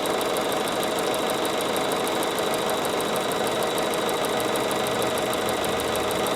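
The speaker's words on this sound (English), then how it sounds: "Moves kind of slow simply because we do have it set on a very short stitch length" A sewing machine fitted with a circular embroidery attachment stitches circles on a very short stitch length, giving a steady, loud, fast mechanical whirr and rapid ticking that runs unbroken throughout with no talking.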